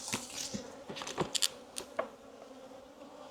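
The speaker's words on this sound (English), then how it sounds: "To watch the bees go through." Honey bees buzz close by at a beehive in a steady drone, with a few soft taps and knocks over the hum.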